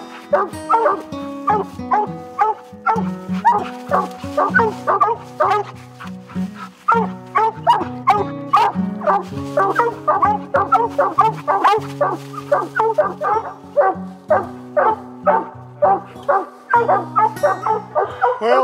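Hunting dogs bay and bark at a treed raccoon at night in the Ozark hills, a steady overlapping chorus of repeated barks and yips close by, with a dense rhythmic tonal texture that suggests music may be layered underneath.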